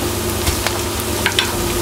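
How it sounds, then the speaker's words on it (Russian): Chicken wings stir in a hot pan with a spoonful of melting brown sugar, a steady close sizzle of frying with a few scraping stirs and no talking. "Хорошо перемешиваем."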